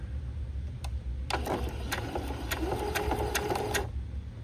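A sewing machine back stitching bias tape onto a needlepoint canvas: a soft tick and then about two and a half seconds of quick, rhythmic mechanical clatter over quiet room hum.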